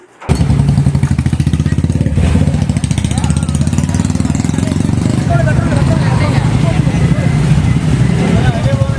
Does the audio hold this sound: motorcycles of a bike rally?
yes